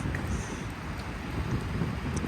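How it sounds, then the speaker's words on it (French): Heavy rain pours down in a dense, steady hiss, close and constant, with no voices. "Malheureusement il pleut énormément"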